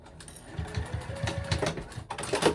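A sewing machine bastes D-rings onto a clutch bag, running in a short, close burst of rapid, even stitching thumps with light mechanical clatter and no talk.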